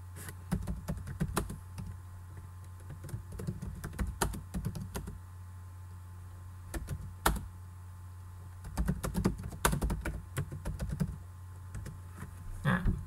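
Keys clatter on a computer keyboard in uneven bursts of quick taps with short pauses between them, over a steady low electrical hum.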